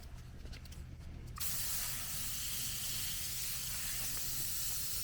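Water spray hisses loudly and steadily against a car wheel and tire during a rinse, starting abruptly after a quieter moment and continuing unbroken to the end.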